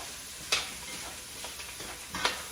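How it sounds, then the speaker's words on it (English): Mild breakfast sausage frying in a pot for cabbage soup, a faint steady sizzle with a few soft scraping clicks of stirring spaced irregularly, no talking. "We're going to add our sausage, breakfast sausage, and I use the mild"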